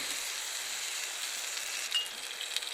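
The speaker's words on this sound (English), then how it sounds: "We place on a preheated skillet, and you can hear that it's commenced cooking." Lemon set on a preheated oiled skillet gives a steady, faint, hissing sizzle throughout, with a couple of small crackles and pops near the end.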